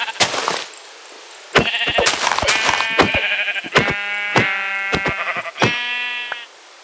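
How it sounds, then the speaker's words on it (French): Sheep bleat repeatedly in the Minecraft video game, a string of loud, nasal, harmonic cries that start near and overlap one another, broken by sharp clicking hits between calls. "Tuer quelques petits moutons."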